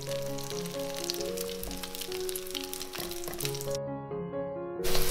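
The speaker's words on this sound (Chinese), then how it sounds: "油锅热了之后，舀1勺进来煎" Teochew oyster omelette batter frying in hot lard or cooking oil, a steady dense sizzle and crackle throughout with background music playing and no talking.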